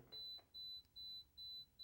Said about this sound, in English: It makes beep, beep, beep, beep, beep, beep noises.